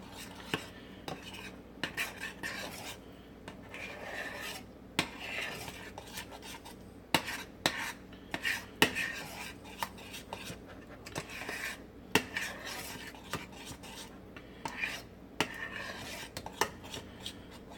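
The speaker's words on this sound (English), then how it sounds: "Now I'm just stirring it to thin it out." A spoon stirs cheese sauce in a pan to thin it, its faint, regular clinks and scrapes against the metal repeating steadily.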